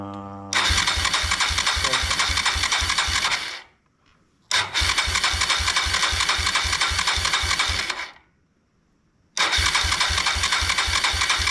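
A 1999 Suzuki DR200 motorcycle being revived, its engine cranking and firing in three loud bursts of rapid, even thumping pulses separated by brief silences, close up.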